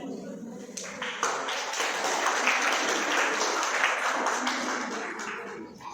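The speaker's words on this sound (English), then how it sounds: "give them a round of applause" Audience applause at a school Human Rights Day speech event, sustained and fairly loud broadband clapping from a crowd that swells after a quieter start and continues steadily for several seconds.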